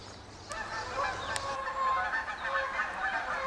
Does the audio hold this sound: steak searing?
no